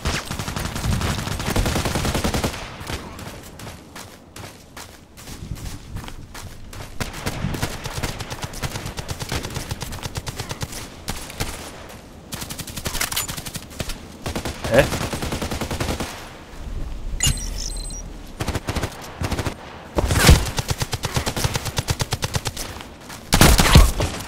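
Rapid bursts of submachine-gun fire from the SR2M Veresk in the online shooter Contract Wars, dense and continuous through most of the stretch, with a few louder near volleys toward the end.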